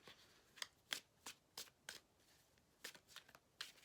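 A deck of tarot cards being shuffled up close: a quiet series of about a dozen crisp riffling bursts at an uneven rhythm, with no voices.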